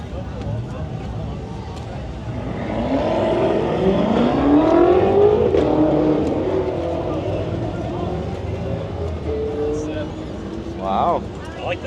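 Dodge Challenger Hellcat driving on a race track, its engine note rising and sweeping past in a swelling roar before fading back, with people talking over the sound throughout.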